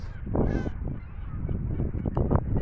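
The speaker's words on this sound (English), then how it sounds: "All those birds flying in the sky, they are getting fed by the person over there" Geese honking loudly and repeatedly close by while being fed outdoors on a walk in the Netherlands, with calls overlapping in an irregular cluster.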